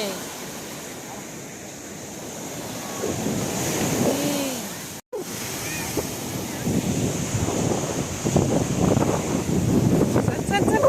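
Sea waves at Girgaon Chowpatty beach in Mumbai roll in as a steady roar mixed with wind buffeting the microphone, while people talk and call out nearby throughout.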